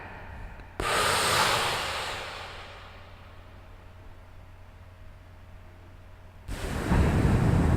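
Slow, relaxed breathing sounds close and airy: one long breath swells and fades over several seconds, then another begins near the end, with no talking.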